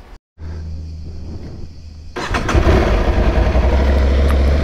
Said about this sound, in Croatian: Pa ovako za prvu ruku lipo motor pali.